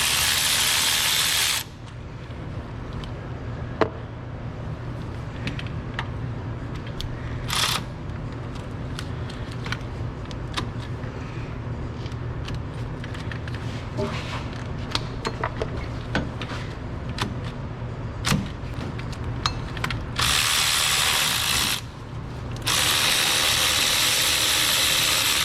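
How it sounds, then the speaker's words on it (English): Clicking ratchet working three 17mm bolts loose from the power steering pump on a Mazda B2300 pickup, a steady run of close mechanical clicks over a low hum, with bursts of broadband noise near the start and end. "Go ahead and start removing the bolts for the power steering pump."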